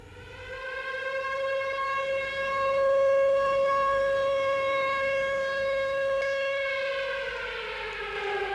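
A loud factory siren wails steadily and continuously, a sustained tone that swells slightly, then sags lower in pitch near the end.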